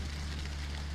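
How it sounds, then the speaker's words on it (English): Steady, dense patter of rain falling in the desert, an even hiss with a low rumble beneath, no voices. "Rain in the desert."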